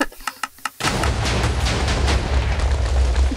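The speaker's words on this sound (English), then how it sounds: "Jeez, look at that explosion." A Minecraft explosion: a few quick soft clicks, then a loud blast that swells into a long, deep rumbling roar filling the rest of the moment.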